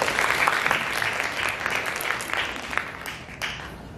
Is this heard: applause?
yes